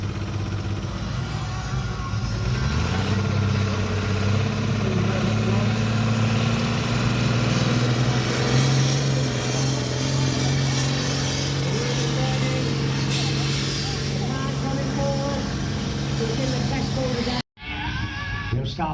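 A vintage engine at the Honiton Steam Rally builds up revs, its loud, low drone climbing in pitch early on, then holding steady and close before cutting off abruptly near the end.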